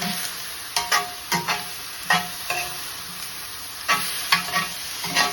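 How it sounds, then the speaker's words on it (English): Tempeh sizzles in a hot pan as a tamari and maple syrup sauce is stirred through, with sharp repeated scraping strokes of a utensil over a constant frying hiss. "you're gonna add this and then stir quickly because you wanna coat all the food in this sauce"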